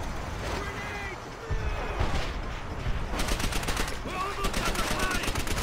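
Gunfire from Call of Duty: World at War multiplayer crackles in repeated bursts and rapid automatic strings, fairly loud at moments, with someone talking over much of the action.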